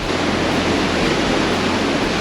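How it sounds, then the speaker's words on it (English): Atlantic Ocean waves seen from a cruise ship balcony on Royal Caribbean's Liberty of the Seas on a July day, a steady broadband wash of surf and wind with no break or voices. "Just one shot of the beautiful Atlantic Ocean right now on a gorgeous July day."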